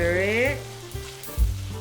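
Beef liver frying with bell peppers in a hot pan hisses and sizzles steadily as it is stirred, with a brief scrape and a soft knock near the end and music in the background.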